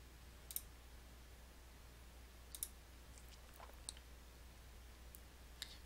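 Quiet computer mouse clicks come one at a time at scattered moments while working in a spreadsheet to make a histogram. Each is a short, crisp tick over faint background hum.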